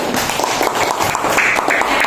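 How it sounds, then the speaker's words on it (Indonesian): Classroom applause for a student during a lesson, a loud, dense burst of clapping from many hands that fills the room at close range without letup. "Tepuk tangan untuk Naila."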